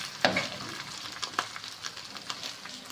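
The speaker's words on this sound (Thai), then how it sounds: "เอามาคั่วพริแกงหอมๆนะจ๊ะ" Curry paste stir-fried in a pan with scrapes and stirring clatter over a steady soft sizzle, one sharper knock near the start, no voices.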